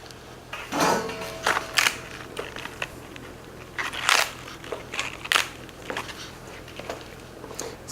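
Celery stalks cut into chunks on a board, a series of separate crisp crunching chops with short pauses between them, close and fairly quiet.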